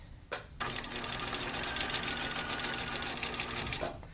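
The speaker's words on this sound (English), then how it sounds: "Okay, so I'm going to stitch." Sewing machine stitching fabric on a mending project, a steady close mechanical whir that starts after a brief pause and runs continuously for a few seconds before stopping.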